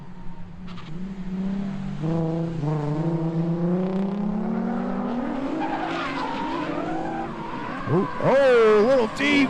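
A Nissan 370 drift car at a street drift series event squeals its tires through a long skid, engine revving and wavering loudly, with a commentator talking over it.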